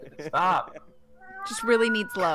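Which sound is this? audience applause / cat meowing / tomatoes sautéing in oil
cat meowing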